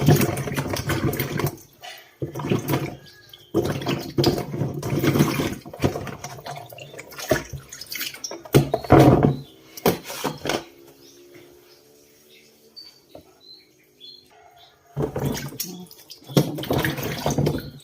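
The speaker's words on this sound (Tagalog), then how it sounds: "Hinugasan natin isa-isa." Sweet potatoes are washed one by one by hand in water, making bursts of close splashing and sloshing separated by quieter pauses, with faint voices and drips in the gaps.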